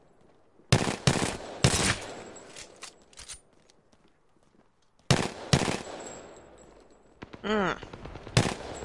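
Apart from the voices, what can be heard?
gunfire in Apex Legends video game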